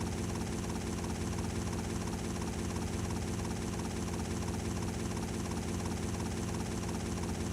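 Police helicopter rotors in GTA Vice City Stories chop steadily at close range with a constant engine drone, holding a dense, unchanging roar throughout with no voices.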